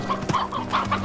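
Chickens clucking inside a coop in the video game Slime Rancher, a few short close clucks in quick succession over a faint steady hum, with no talking.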